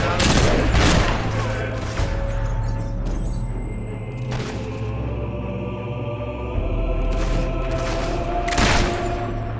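Gunfire in the video game Fable III, heavy bursts of shots and booming reports with echoing tails, loud and near, rising and fading in waves.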